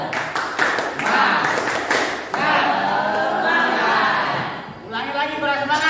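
A group of people claps together in a short rhythmic spirit-clapping pattern, several sharp beats in a cluster, then more clapping with laughter and voices in a classroom-like setting.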